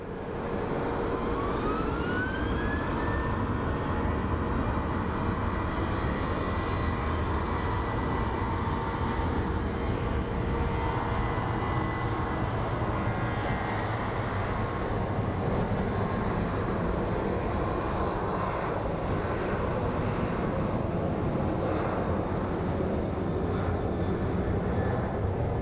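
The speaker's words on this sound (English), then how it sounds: "So this is the CRJ 100. It's a Mexican freighter company coming in." A CRJ 100 freighter jet approaches to land at Phoenix Sky Harbor International Airport, a steady broad engine roar with a rising whine, heard continuously from a moderate distance outdoors.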